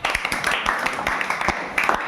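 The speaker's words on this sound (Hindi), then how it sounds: "चलिए ताली इनके लिए।" A school audience claps for a top-scoring student at a small ceremony, a dense, steady patter of hand claps close by with a voice talking over it.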